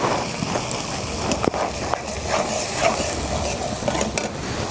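Tomato puree hitting a hot, sizzling pan while spices for a whole cauliflower roast cook, giving a steady close frying hiss with light stirring scrapes and a few utensil clinks, no talk.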